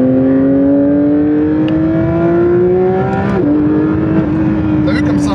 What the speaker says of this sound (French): t'as vu comme c'est un moteur rageur?